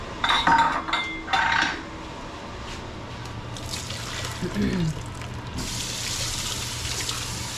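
Water from a tap runs steadily into a container, with a few clinks of dishes and brief talk early on.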